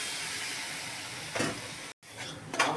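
Fried semolina being stirred with water in a pan for savoury halwa, a steady sizzle and scraping stir with a brief burst of steam hiss, then a short break and more stirring, no talk.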